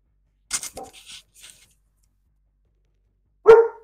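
A boxer, Siberian Husky and shepherd cross dog gives a few sharp barks up close, then one louder single bark after a pause of quiet.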